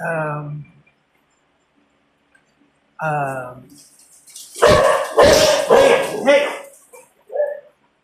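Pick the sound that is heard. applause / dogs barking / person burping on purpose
dogs barking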